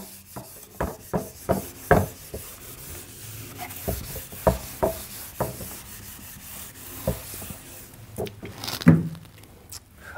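Shorthand writing being rubbed out on paper: a series of short, close, dry rubbing strokes in an uneven rhythm, with brief pauses between them and no voices.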